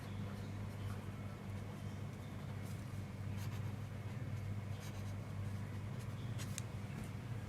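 Writing on a board during an accounting lesson: soft, scratchy strokes come in short irregular bursts over a low, steady background hum, faint and close, with no speech.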